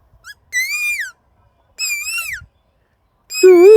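A flute made from an onion leaf imitates a cuckoo's call: three close, loud, warbling whistled phrases separated by short silences, the last dropping lower in pitch.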